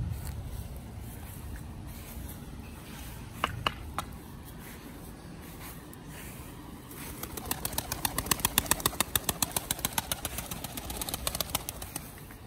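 Pigeons trying to fly flap their wings in rapid repeated bursts, growing into a long fluttering run of close, loud wingbeats after a few isolated flaps, over a steady background.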